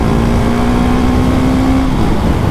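A KTM Duke 690 R single-cylinder motorcycle engine pulls hard under acceleration, a loud, constant wind-blown engine roar with a steady rising tone.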